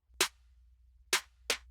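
Three crisp snare-and-clap layered hits ring out alone over a faint low hum, the first isolated, the last two closer together, each a short bright snap with a quick decay.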